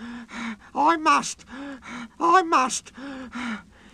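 A close voice gasps and pants in a series of strained, rhythmic breaths, imitating someone out of breath, voicing Percy the Small Engine in a spoken-word story recording.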